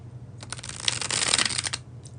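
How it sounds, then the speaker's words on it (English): A deck of cards riffled in a bridge shuffle, a quick rapid fluttering burst of card edges lasting about two seconds, close and clear with no voices. "that is the bridge shuffle"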